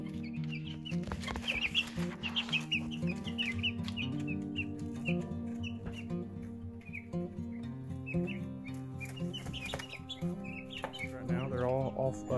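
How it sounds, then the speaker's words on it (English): Female baby chicks (pullets) peep in quick, high chirps throughout, layered over a steady tonal hum in the background. "We're raising six baby chicks right now."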